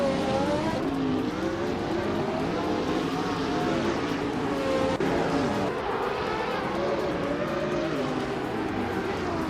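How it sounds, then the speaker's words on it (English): 2019 Brabham BT62 race car engine in a racing video game, a loud close howl with fast climbing and dropping revs and shifts, plus a short cut near the middle, steady to the end. "Azix Switch is driving a 2019 Brabham BT 62."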